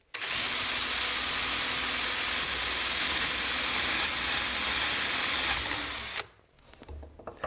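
A drill mounted in a FISCH drill stand bores into a round wooden dowel, a loud continuous whirring motor grind that runs steadily for about six seconds before cutting off abruptly, followed by quiet handling noises.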